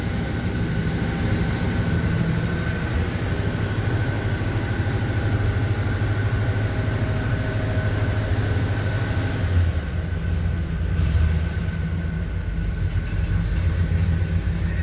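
Engine of a 1978 GMC C15 pickup truck idling as it warms up on a hot day, a steady low rumble that runs evenly throughout, near and fairly loud.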